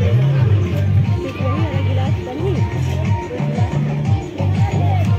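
Crowd bustle at the Rajpur fair near a Ram swing ride, a steady dense hubbub of many voices with a rhythmic low mechanical pulsing running through it.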